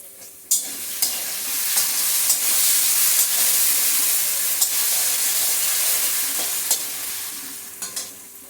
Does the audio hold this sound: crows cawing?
no